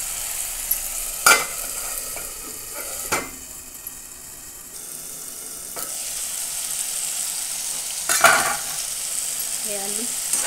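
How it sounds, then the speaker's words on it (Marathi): Tomatoes with turmeric and coriander cook in a pan, giving a steady low sizzle with a few sharp clinks or stirring knocks scattered through, heard alone at moderate level. "टमाटे छान शिजत आहे, त्याच्यात थोडीशी कोथिंबीर टाकूया"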